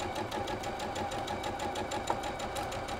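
Sewing machine running steadily while stitching a quarter-inch seam on a Sawtooth Star quilt block, a continuous close mechanical whir with a fast even needle rhythm and one brief click near the end.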